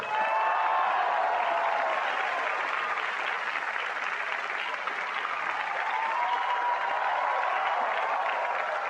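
An audience claps in sustained, dense applause that holds at an even level from start to finish, with no voices rising above it.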